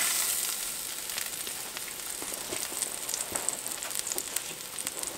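Potatoes crisping in a hot cast iron pan give off a steady, close crackling sizzle with scattered sharp pops throughout, and no voices.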